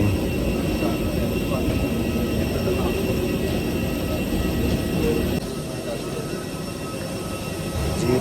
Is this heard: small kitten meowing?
no